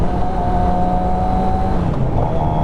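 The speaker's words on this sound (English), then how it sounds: "I was able to practice how to engine brake" A 2023 Suzuki GSX-R 750 sport motorcycle engine drones steadily at close range, its pitch sagging slightly toward the end as if easing off under engine braking.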